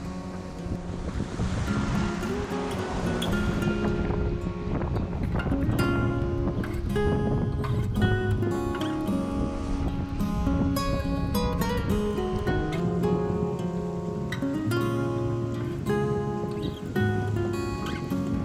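A sailboat rides building waves in strong wind off the Scottish Highlands: continuous loud rushing surf and wind buffeting throughout, with tonal humming layered on top.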